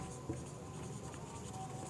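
During a lecture on blood components, a pen or marker writing notes makes faint, close scratching strokes against a quiet background hum, with no speech.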